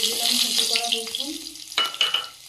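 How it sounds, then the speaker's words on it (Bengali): Dry red chillies and chopped garlic frying in hot oil as a tempering for dal, a steady loud sizzle with some stirring, with voices faintly underneath. "আজকে ডালটা ফোড়ন দিয়ে নেব ডালে দিয়েছি শুকনো লঙ্কা গোটা রসুন"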